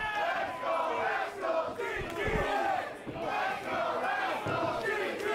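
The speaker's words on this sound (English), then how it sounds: "You can hear the audience split pretty evenly at this point between the DTA and the Rascals." A wrestling crowd at a tag-team match roars and cheers continuously, loud and dense, with shouts rising and falling and a few thuds underneath.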